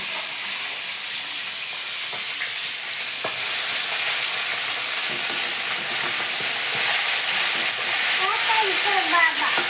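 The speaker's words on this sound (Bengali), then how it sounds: "এখন আমি এর ভিতরে দিয়ে দেবো ধুয়ে রাখা চাল" Washed rice tipped into a hot frying pan sets off a steady, broad sizzle that swells and holds close throughout, with a few stirring clatters and a brief voice near the end.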